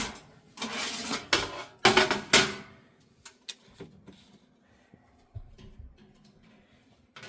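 A metal oven tray, broiler pan and fry rack being handled in a 1998 camper's RV oven, with sharp clanks and rattles up close, then lighter scattered taps and knocks trailing off.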